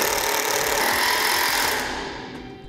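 A power driver runs a self-tapping screw into a steel trailer frame behind a taillight housing, a steady, loud, buzzing whir close by that eases off and fades over the last second.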